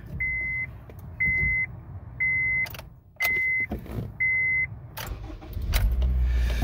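A 2009-2011 Honda Fit in a garage during brake work: a steady dashboard chime beeps about five times, then the engine turns over and settles into a low idle near the end. No one speaks.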